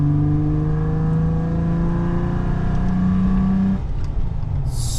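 A Toyota engine fitted with a cold air intake revs loud and close, its droning pitch climbing and holding, then dropping off after a few seconds with a rougher rumble. Nobody speaks.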